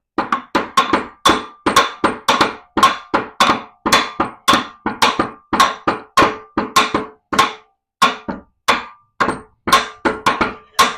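Sharp metallic hammer blows ring out against a long bolt on a 1985 Camaro during an LS swap, struck in a fast, steady series of close, loud hits with brief gaps.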